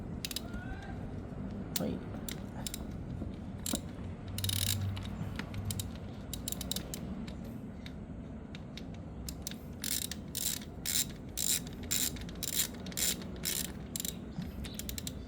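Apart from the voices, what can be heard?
ratchet wrench tightening oil drain bolt on Yamaha Sniper 155R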